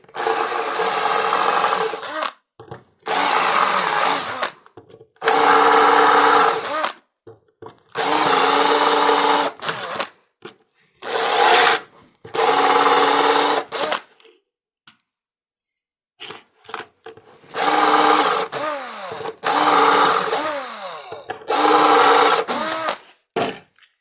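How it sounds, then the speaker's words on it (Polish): An electric drill whirs in repeated bursts of a few seconds each while dismantling a combined circuit breaker, separated by short pauses, close and loud. "większe wiertło będzie trzeba zastosować"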